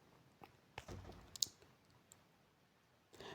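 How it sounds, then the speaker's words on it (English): A few crisp computer mouse clicks, quiet and close, spaced irregularly against near silence with no voices. "Let me click on today."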